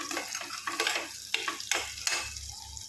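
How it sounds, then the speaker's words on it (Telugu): Onions fry in hot oil for a beans kurma, a soft sizzle broken by several scraping stirs of a spoon in the pan, close and fairly quiet, with no voices. "సో ఇలా ఆనియన్స్ కొంచెం వేయించుకున్న తర్వాతకి"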